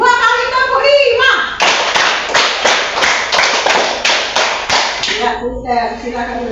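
Children in a grade five classroom chant and then clap together repeatedly, a long run of roughly ten crisp, loud unison claps in steady rhythm, followed by more voices.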